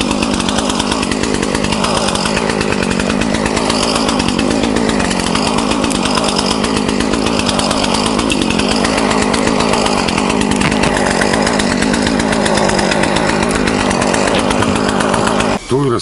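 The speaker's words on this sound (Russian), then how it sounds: "нету никаких проблем с запуском бензопил и на горячую" ZimAni 365 PRO and ZimAni 450 chainsaws run in a Belarusian forest, a loud continuous buzzing engine drone that holds steady for the whole stretch and cuts off abruptly at the end.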